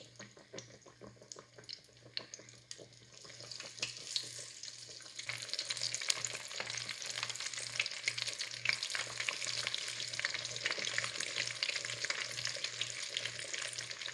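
Battered ugly fish fries in an iron pan, a fairly quiet crackle that swells into a dense, continuous sizzle after a few seconds, with a faint steady hum underneath and no talking.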